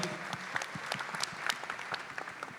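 Applause from a ceremony audience at a peace prize event, a fairly faint, steady patter of many hands clapping with scattered sharper claps, no voices over it.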